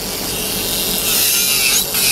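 An electric nail file machine works gently over the top of an acrylic nail, giving a continuous high, abrasive whirring grind at close range that rises slightly partway through.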